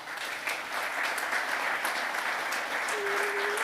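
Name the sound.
audience applause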